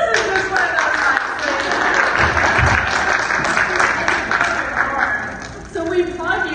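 An audience at a women's empowerment event applauds steadily and loudly for several seconds, a dense wash of clapping from a sizeable crowd that fades briefly near the end.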